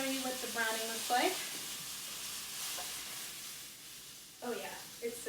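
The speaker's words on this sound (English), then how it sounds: "Oh yeah, it's sizzling" A steak sears in an oiled pan, giving a steady loud sizzle and hiss throughout with brief crackling spikes, while a person talks over it at the start and near the end.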